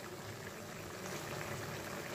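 Pointed gourd (potol) simmering in a pot of water, a steady soft bubbling boil that runs continuously and fairly quietly close by, with no voices.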